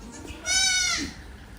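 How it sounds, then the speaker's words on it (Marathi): A newborn goat kid gives a single clear, close bleat lasting about half a second in a quiet farm setting. "आता हे पण पिल्लू ओरडायला कारण ही शेळी जी आहे ती कालच येलेली आहे"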